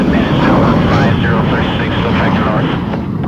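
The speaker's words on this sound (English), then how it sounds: "A group of American F-80 Shooting Star fighters take off for a combat mission." American F-80 Shooting Star fighter jets take off for a combat mission, their engines making a loud, continuous roar while someone speaks over it.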